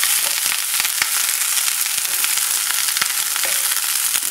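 Fresh okra with chicken sausage fries in a pot over a lowered flame, giving a steady, close, hissing sizzle dotted with small crackles and pops, with no talking.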